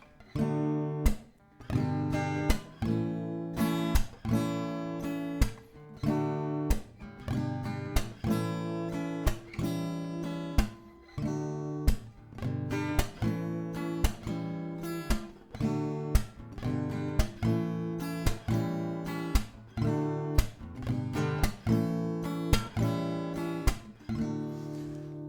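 An acoustic guitar strummed in the steady, repeating verse rhythm of a song, with sharp percussive slaps on the beat, played alone for a long stretch.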